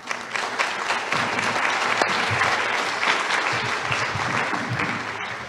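Warm, sustained applause from a seated audience welcoming a doctor to the lectern, dense and full for the whole stretch with no break.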